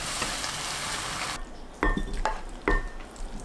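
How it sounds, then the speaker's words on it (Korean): Vegetable filling with chili stir-fried in a pan, a steady sizzle that quiets after about a second and a half, then three sharp scraping stirs of a utensil against the pan, close and fairly loud. "볶고 고추를 넣어 모든 재료가 익고 물기가 없을 때까지 볶습니다."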